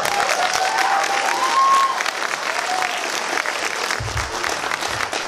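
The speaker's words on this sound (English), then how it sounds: "Give a round of applause." A festival crowd claps warmly for a high school jazz vocal ensemble, a dense, sustained round of applause with a few faint whistles and murmurs mixed in.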